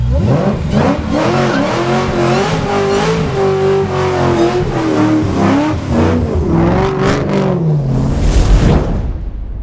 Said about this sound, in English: think I'll do a burnout.